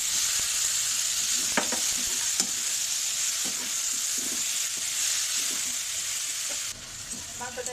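Chicken pieces sautéing with spices in a pan for chicken dal: continuous loud sizzle close by, broken by intermittent spatula scrapes and light clinks of stirring, with no talking.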